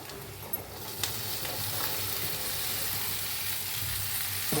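Sliced okra sizzles steadily in a pan with onion and turmeric, a continuous close frying hiss with occasional soft clicks of stirring and no voices.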